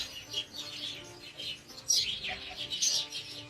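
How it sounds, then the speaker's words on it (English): Small birds chirp and tweet outdoors in a scattered, irregular pattern, moderately close but fairly soft, with no talking over them. "I should yell at these birds."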